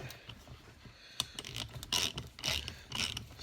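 A ratchet wrench clicks in short quick runs while tightening a part during the top-end engine rebuild of a pitbike, close and fairly quiet with a few louder clicks.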